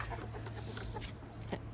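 Young chickens in their run give soft, scattered clucks, faint and a little distant over a low steady background hum, with no voices.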